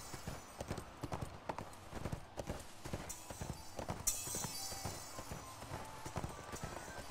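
Horses gallop in the ArcheAge online game, a steady rapid clip-clop of hooves running throughout with a brief whinny-like burst midway, fairly loud and close against a busy game background.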